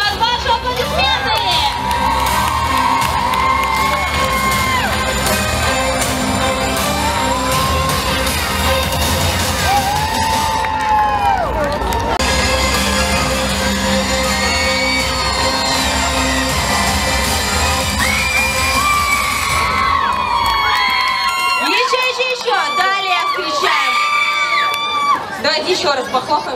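A crowd cheers and whoops at an outdoor cosplay show during Humorina 2019 in Odessa's city garden. The dense cheering runs loud and continuous, with children's shouts and a voice carrying over the din, easing briefly near the end.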